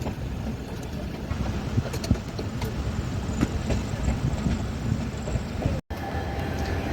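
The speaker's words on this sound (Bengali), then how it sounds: "1314 উত্তরবঙ্গ এক্সপ্রেস বোলপুর শান্তিনিকেতন ছেড়ে চলে যাচ্ছে" The Uttarbanga Express passenger train running after leaving Bolpur Shantiniketan, a steady rumble with rhythmic clickety-clack of wheels on rail joints, heard from inside the coach, continuous and fairly loud.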